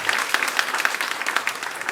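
Applause from an audience at a hospital staff event where a ward boy is named best staff of 2025, a dense burst of clapping with sharp individual claps standing out, fairly close and steady throughout.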